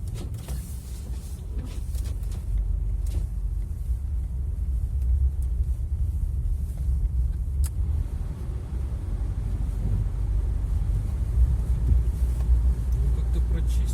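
Vehicle labouring through deep loose snow during a blizzard in Siberia, a steady low engine rumble with heavy wind noise throughout, fairly close and continuous.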